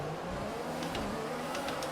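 A Williams Formula 1 car in the F1 2021 video game revs its engine steadily at the race start, a loud continuous whine with a few quick sharper bursts near the end.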